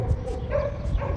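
Dogs barking excitedly at a man in a sleepy Russian seaside town, heard outdoors at a distance, muffled and blended into steady street background noise.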